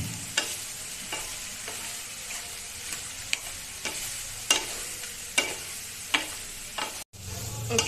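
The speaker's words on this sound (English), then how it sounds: "And then you stir it properly." Green sabji with whole beans is stirred in a pan: repeated sharp scraping strokes, roughly one every half second, ride over a steady close sizzle, with no voices.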